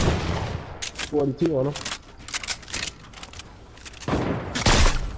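Gunshots fired by an enemy player in a shooter game: sharp bursts of cracks scattered through the clip, loudest near the end, mixed with voices talking and shouting over the action.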